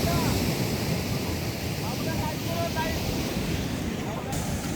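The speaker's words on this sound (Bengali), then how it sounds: "আবার আসছে, আবার একটা ভয়ঙ্কর ঢেউ আসছে এখানে দেখতে পাচ্ছি।" Large sea waves crash and roar onto the shore at Digha, a loud continuous surf wash close by with gusting wind noise buffeting the microphone.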